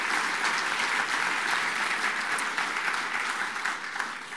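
Steady applause from a crowd honoring student athletes and golfers at the East Lake Foundation's Party On The Green golf event, dense and continuous throughout, fading slightly near the end.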